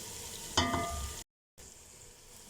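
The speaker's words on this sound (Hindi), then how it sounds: "चिकन की भुनाई मैं कर रही हूँ" Frozen chicken pieces sizzle faintly as they roast in a pan, with a brief louder burst of frying hiss, then a short gap of silence before the quiet sizzle resumes.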